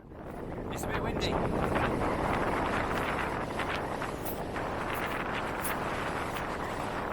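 Wind gusts across a misty fell path in the Lake District in December, roaring and buffeting the microphone in a continuous, loud rush close to the ear.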